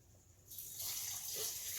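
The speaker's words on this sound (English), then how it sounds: "So I may add a little bit more water." Water pours from a tap into a cooking pot for shrimp soup, starting suddenly and rising into a steady, close splashing gush.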